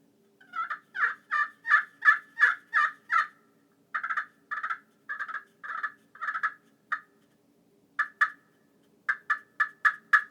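Series of sharp clucks and yelps from a glass turkey call in quick bursts, loud and close, with brief pauses between groups and no talking.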